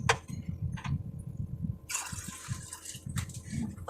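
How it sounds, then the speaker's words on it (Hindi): Water poured from a glass into a cooking pot in an outdoor caravan kitchen, a short gushing splash in the middle of the clip, faint and near, with quiet clatter around it. "इसमें हम डालेंगे 3 गिलास पानी।"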